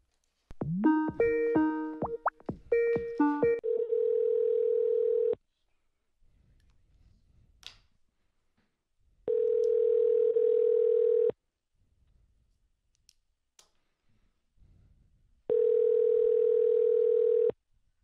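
Telephone sales calls: quick touch-tone dialing beeps, then a steady ringback tone sounds three times with long silent gaps between, clear and isolated.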